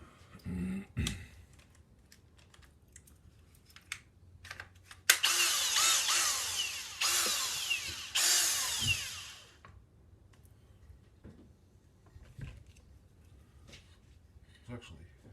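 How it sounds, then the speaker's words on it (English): Power drill spinning a tap through a part on a Stihl 032 AV chainsaw during rebuild, a loud steady whirring burst of about four seconds between quieter clicks and handling noises. "Maybe if I put the drill on it."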